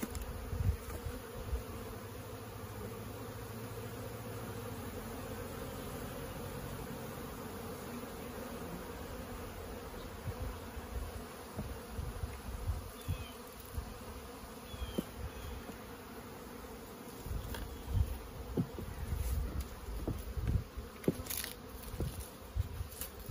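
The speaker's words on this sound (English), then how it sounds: "being such a gorgeous day, there's a lot of bee activity today" Honeybees buzzing around their hives on a sunny early fall day, a steady droning hum of many insects with occasional louder close passes, no talking.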